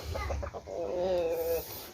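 A hen gives a few quick clucks followed by a drawn-out, wavering croon, close by and moderately loud.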